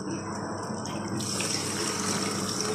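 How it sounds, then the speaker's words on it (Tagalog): Tap water runs steadily over chili peppers being washed in a home kitchen, a continuous splashing hiss that grows brighter and fuller partway through, with no talking. "Higyan na natin siya ng tubig."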